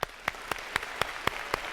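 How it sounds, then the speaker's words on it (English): At a live nutrition masterclass, an audience welcomes a guest chef with sharp, evenly spaced claps at a steady pace of about four per second, fairly faint and with no talk. "I want to give a warm applause to Devin Alexander"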